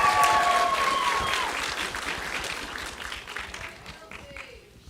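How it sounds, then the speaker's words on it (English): An audience at a children's ambassador pageant gives a contestant a warm round of applause, dense at first and gradually thinning out and fading over several seconds, with a faint voice under it. "let's give her one more round of applause."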